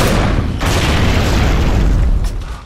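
Loud, continuous booming blasts of enemy creatures exploding in the Gears of War video game, dense and sustained across the whole stretch with a brief dip before the rumble resumes.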